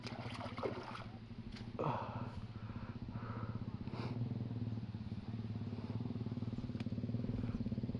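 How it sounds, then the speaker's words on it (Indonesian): Motorcycles belonging to anglers run near the Jatigede reservoir at Karangpakuan, Darmaraja, with a steady, close engine drone and throbbing idle over outdoor clatter and faint background activity throughout. "Nih motor yang mancing."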